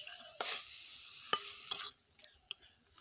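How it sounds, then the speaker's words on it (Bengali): Grated bottle gourd with turmeric and salt is stirred in a pan. Faint, sparse scrapes and short clattering bursts rise over a soft, quiet sizzle, with no speech. "এবারে গ্রেট করে রাখা লাউ, হলুদ গুঁড়ো মতো নুন, এবারে ভালোভাবে মিশিয়ে নিতে হবে।"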